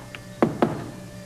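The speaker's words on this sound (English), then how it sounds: "Knock, knock." Two sharp, hollow knocks on a door in quick succession, close and distinct, with a faint tap just before and quiet room tone afterward.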